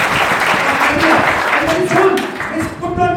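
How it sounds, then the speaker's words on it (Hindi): Loud, close applause from a seminar audience for the student organizers, a dense continuous wash of clapping throughout with voices mixed in, as a speaker begins talking near the end. "हम चाहेंगे आप एक बार उनके लिए भी जोरदार ताली बजाएं"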